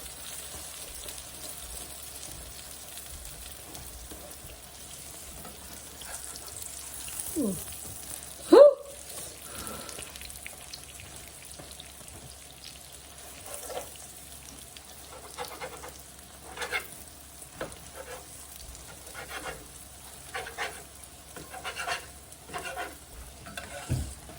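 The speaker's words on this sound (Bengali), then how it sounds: "ডিম ভাজা" Eggs frying in a pan give a soft, continuous sizzle with intermittent stirring and scraping taps, faint and steady throughout, with one brief louder knock partway through and no clear talking.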